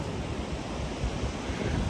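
Sea surf washes onto the shore in a steady, broad rush, continuous and fairly loud, with some wind buffeting the microphone.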